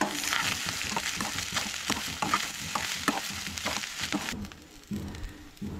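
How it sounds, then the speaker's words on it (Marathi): Soya chunks roast in a pan with onion for a Goan non-veg thali, crackling and sizzling steadily under brisk stirring and scraping, close and moderately loud, easing off near the end. "आतां हांगसर ॲड करूया सोय, तर सोय बी न्हय हांगसर भाजून घेवंक जाय।"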